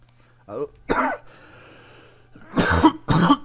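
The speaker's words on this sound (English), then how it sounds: "apologies for the cough" A few sharp coughs, close and abrupt, with a pause between the first and the last pair.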